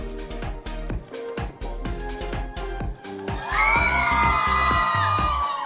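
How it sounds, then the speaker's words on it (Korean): A crowd of fans shouts and cheers in bursts over rhythmic thumping, then breaks into a sustained, louder wave of high-pitched squeals and exclamations that carries to the end. "뭔가 탄성이랑 함성이 같이 나왔어요"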